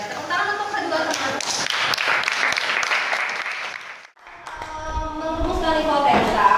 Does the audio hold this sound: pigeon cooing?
no